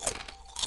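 Faint, quiet crunching as cartoon animals eat sprinkles off the floor, a soft continuous chewing texture with a few brief crisp bites.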